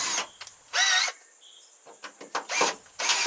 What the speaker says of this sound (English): I used drill bits to create a hole large enough to get the metal jigsaw blade in